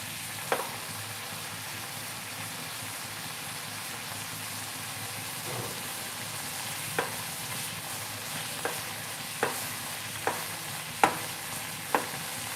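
Homemade tomato sauce made from frozen tomato puree cooks in a pan, giving a steady low sizzle and bubble with scattered sharp clicks of a spoon scraping and stirring, close and moderately quiet throughout.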